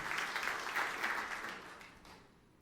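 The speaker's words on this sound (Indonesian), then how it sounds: "Yang percaya tepuk tangan yang meriah untuk kemuliaan Tuhan." A church congregation applauds with sustained, lively clapping heard from within the hall, fading slightly toward the end.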